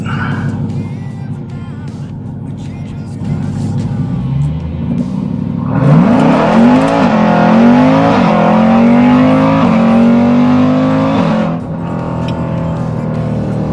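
An 800whp Jeep Trackhawk in custom mode launches and accelerates hard, its engine roaring loud and close as the pitch climbs through several gear shifts over about six seconds before cutting back.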